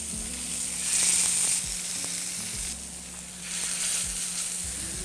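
Steaks searing in hot grapeseed oil in a preheated skillet give a steady close sizzle, with crackling bursts that swell and fade as the meat sits untouched.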